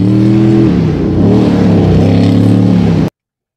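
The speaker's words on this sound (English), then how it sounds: "It is a heavily armored tracked vehicle that is capable of traversing" The engine of a Ripsaw armored tracked unmanned ground combat vehicle drones loudly and steadily up close, its pitch shifting slightly up and down over about three seconds before cutting off abruptly.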